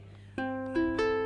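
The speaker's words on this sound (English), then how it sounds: "I'm just plucking the bottom 3 strings" Three plucked open guitar strings, the bottom three, ring out one after another, close and fairly soft, each left sustaining.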